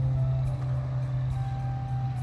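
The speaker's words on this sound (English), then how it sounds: "Still hear the cars going by." Steady low road rumble of traffic going by, a continuous drone with slight swells as vehicles pass at a moderate distance.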